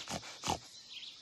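A cartoon space pig in a jungle setting gives two short, nasal oinks about a third of a second apart, close and clear, followed by a faint quiet tail.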